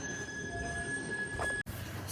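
An Italian-built Milan electric trolley car runs on rails at the Midwest Electric Railway, with steady wheel rumble and a sustained high wheel squeal, heard fairly close, ending in a brief cut.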